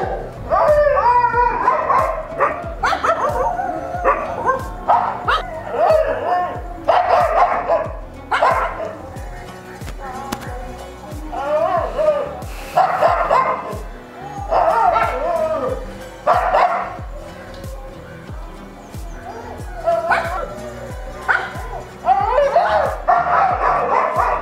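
Kombai dogs, a native Indian breed, bark, yip and whimper repeatedly in loud overlapping bursts close by, with howls mixed in throughout.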